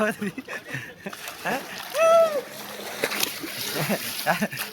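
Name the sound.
people jumping into water, splashing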